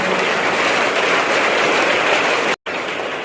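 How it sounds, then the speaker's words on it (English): A school audience at a staff appreciation event gives two students a big round of applause, dense and steady throughout, then breaks off abruptly near the end. "let us give both Ishanti and Ananda a big clap for their gesture"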